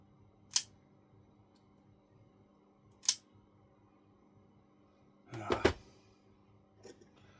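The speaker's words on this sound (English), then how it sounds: "So I have to cut that off." Electrical cable sheathing on a scratch-built Tamiya model trailer being cut: two sharp, faint snips a few seconds apart, then a short rustling crunch and one last small click, quiet and close.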